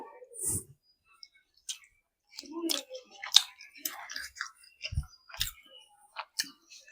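Someone chews liver from a crab curry in soft, wet bites with scattered clicks and crunches and brief pauses between chews, close to the mic. A voice murmurs faintly now and then.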